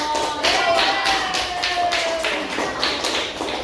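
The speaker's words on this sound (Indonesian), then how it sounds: "tepuk tangan untuk kelompok" Classroom applause for a student group, a short round of rhythmic clapping that is fairly loud and close, with a faint tone running underneath.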